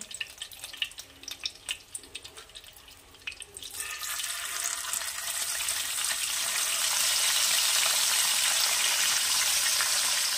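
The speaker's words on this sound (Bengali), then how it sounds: "এই একই প্রসেসে আমি পুরো মাছগুলো ভেজে আবার ফিরে আসছি আপনাদের কাছে" Loud, steady sizzling of pabda fish frying in hot oil, building up and becoming a continuous hiss after a few seconds of quieter clatter.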